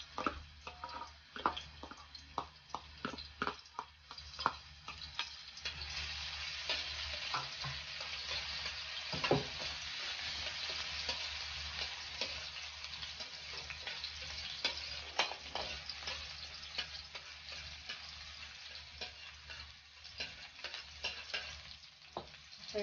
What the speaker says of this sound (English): we're going to add now the oil. Then we will saute